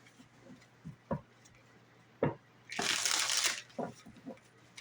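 A deck of tarot cards is shuffled, with a few soft taps and a short burst of riffling in the middle, close and fairly quiet.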